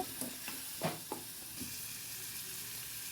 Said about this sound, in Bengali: দুটো আলু দিয়ে আমি একটু আলুগুলো ভেজে নিচ্ছি পেঁয়াজ রসুনের সাথে